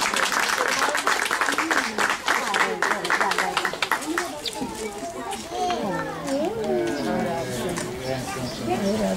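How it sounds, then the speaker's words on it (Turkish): Scattered clapping greets a young boy performing at a Mother's Day celebration, brisk hand claps for a few seconds before giving way to lively children's chatter and adult voices. "Evet, alkışlar az geliyor."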